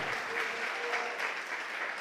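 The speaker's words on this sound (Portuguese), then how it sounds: "você pode aplaudir o Senhor" Congregation in a church service applauds, a steady wash of clapping from many people that fills the whole moment at a moderate level.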